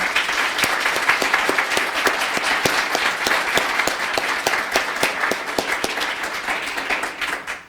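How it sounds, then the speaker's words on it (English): A conference audience claps at the close of a session, a lively sustained round of applause with distinct individual claps standing out, loud and steady before tapering off at the end. "please join me in one last round of applause for everybody's hard work today"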